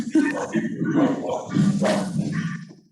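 Four dogs bark at home: a few loud, close barks and yips in quick succession, with a voice talking among them.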